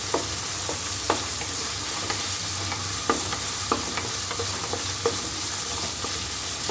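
Seasoning sautéing in a pan for rava upma, with a steady close sizzle and sharp spoon scrapes and clicks against the pan at irregular intervals.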